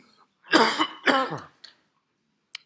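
A person coughs twice in quick succession, harsh and close, followed by a small throat sound and a faint click.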